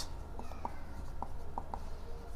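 A pen writing on paper, a few faint, brief scratchy strokes close by over a low background hum, with no talk.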